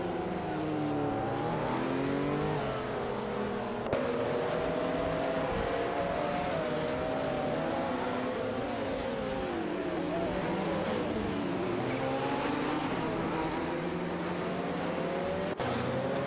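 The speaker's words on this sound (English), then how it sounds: "Neo-Texan and Greninja are locked in a tight battle for 12th position, with both cars closely matched in speed" Race car engines in an AI racing video game, two cars locked in a close battle, roaring continuously with shifting revving pitch throughout, loud and steady with no talk over them.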